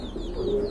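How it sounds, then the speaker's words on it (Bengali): Large pigeons at a pigeon sale give a low, soft, continuous cooing, close and steady throughout. "খুবই সুন্দর আর অনেক বড় সাইজের কবুতর"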